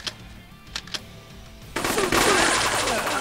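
Gunfire in the March of War video game: a few faint clicks, then a loud, sustained burst of automatic fire that rattles on to the end.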